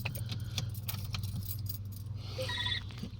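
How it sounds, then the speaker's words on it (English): Keys jangle and turn in the ignition of a Citroën DS4 with a parking brake fault, a close metallic rattle followed by short electronic warning chimes. "If I switch the ignition on, it should flare up for this."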